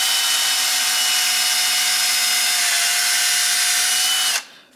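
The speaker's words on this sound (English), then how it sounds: "this little Milwaukee tool does a nice job. It's not too fast." A small Milwaukee power tool spins a brush to clean the threads of an RCBS 9mm reloading die, a steady close whine held for several seconds before the motor cuts off and spins down.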